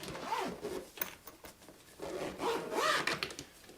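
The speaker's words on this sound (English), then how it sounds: "I can zip up my instrument" A zipper closing a violin case is pulled along in two slow, rasping passes, close by, with faint rubbing and handling sounds between them.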